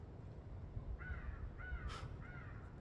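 Crows caw in a winter woods where men are crow hunting. Three drawn-out caws come fairly distant and faint over a low background rumble.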